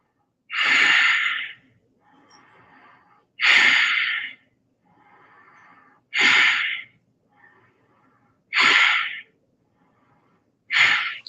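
Deep breaths taken while holding Gomukhasana (cow face pose) during a morning yoga routine: five strong, evenly spaced inhale-like rushes about every 2.5 seconds, close and clear, with softer breaths in between and no talking.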